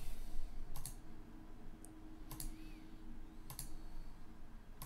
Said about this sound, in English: Left click.